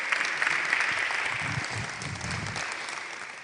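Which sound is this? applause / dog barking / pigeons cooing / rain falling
applause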